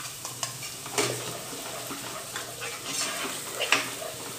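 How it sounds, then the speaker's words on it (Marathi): Ground tomatoes going into a pan of frying masala for a spicy okra dish, with soft sizzling under repeated stirring scrapes and light taps of a spoon against the pan. "त्याच्यामध्ये आपण हे पिसलेले टोमॅटो घालूया"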